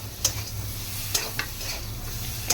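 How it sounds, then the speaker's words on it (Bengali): Vegetable curry sizzles steadily in a hot pan, a constant close frying hiss broken by a few sharp stirring scrapes and clicks. "এই যে আমার তরকারি বসানো হচ্ছে"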